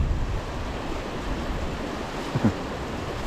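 Steady wind roars and buffets a microphone at a winter wild camp in Northumberland, with a low broadband rumble throughout and a few small thumping gusts near the end, and no voices.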